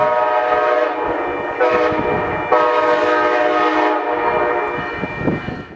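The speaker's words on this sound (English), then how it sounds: "This is River Runner Train 311 pulling in for its scheduled midday stop." Amtrak River Runner Train 311, led by a new Charger locomotive, pulls into a downtown Missouri depot, its horn sounding in long loud blasts over a rumbling engine and rolling wheels, close by and steady throughout.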